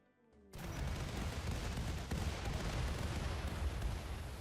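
Artillery in RimWorld opens with a sudden loud boom after a brief quiet moment, then a dense, continuous rumble of firing and blasts that holds steady, with no speech.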